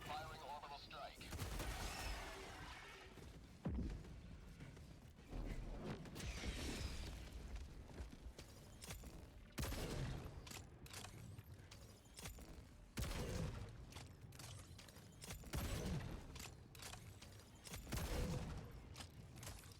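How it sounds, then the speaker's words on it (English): An orbital strike in a video game lands as a run of heavy booming blasts and crackling gunfire, repeated in bursts, with someone talking among the explosions. "Firing orbital strike."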